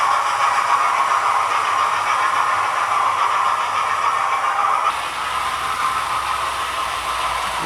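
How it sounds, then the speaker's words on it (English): Model A4 streamlined locomotives running steadily on a track, giving a continuous loud whirring hum with a hissy edge and a slight drop in level partway through, with no talking. "let's get these A4s started up again then, shall we?"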